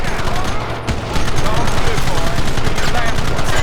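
Sustained machine gun fire rattles at men sheltering behind a rock in Red Dead Redemption, a loud, continuous stream of rapid shots after a brief pause, with shouting voices mixed in.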